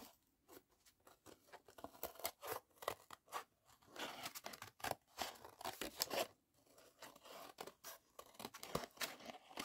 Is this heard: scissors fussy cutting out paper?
yes